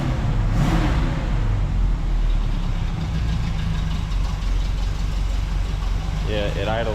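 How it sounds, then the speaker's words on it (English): A neglected 1967 Camaro engine idling roughly on about four cylinders with a dirty idle circuit, a loud, close, uneven rumble throughout, with people talking over it. "it idles on like 4 cylinders"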